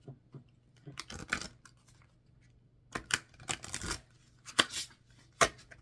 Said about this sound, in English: I have a side shuffle that I use